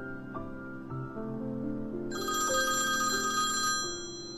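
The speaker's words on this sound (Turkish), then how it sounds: "Kıraç Bey, telefonunuz çalıyor." A telephone ringtone rings in an office setting, a steady melodic electronic tone pattern with a brighter high chiming layer joining midway, moderately loud and close, with no talk over it.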